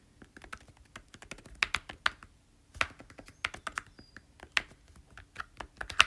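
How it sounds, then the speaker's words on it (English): Steady typing on a computer keyboard, close by, with irregular bursts of key clicks and short pauses, no voices. "now I'm going to finish typing"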